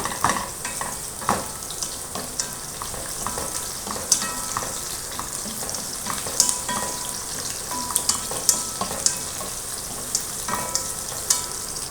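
Fish head frying with chopped onion, ginger and garlic in a pan, a steady dense sizzle under repeated scraping strokes of a spatula and frequent sharp metal clicks throughout.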